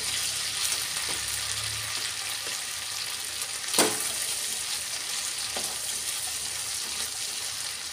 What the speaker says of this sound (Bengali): এবার আদাটা একটু ভেজে নিয়ে দিয়ে দেবো